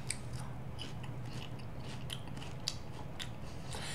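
Crunchy bites and chewing of Creamy Bacon Potato Salad flavored Lay's potato chips, close and steady, with several sharp crisp crunches spread over a few seconds and no talking.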